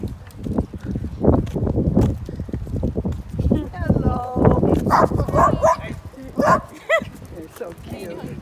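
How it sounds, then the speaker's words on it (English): Dachshunds passing on a neighborhood street bark and yip repeatedly at moderate distance, with higher whiny yelps toward the end, while people talk over them. "those are the dachshunds that go by every day"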